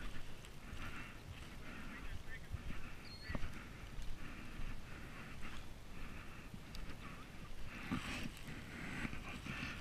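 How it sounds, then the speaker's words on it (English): Gusty wind buffets the microphone on a fishing outing, a faint, uneven rushing that rises and falls in waves, with occasional small knocks and clicks. "I know that wind's blowing"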